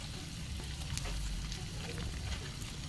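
Shredded chicken pastil fries in a pan and is stirred now and then to keep it from sticking, making a low, steady sizzle with faint scrapes and clicks from the spoon, close and quiet, with no talk.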